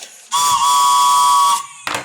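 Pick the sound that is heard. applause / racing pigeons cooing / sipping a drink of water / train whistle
train whistle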